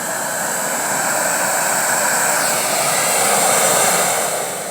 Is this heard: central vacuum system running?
yes